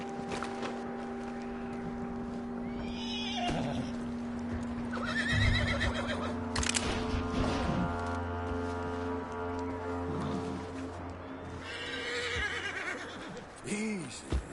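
A horse in the Red Dead Redemption 2 video game whinnies and snorts amid clip-clopping hooves, set under a steady game music score, with brief stretches of talk nearby.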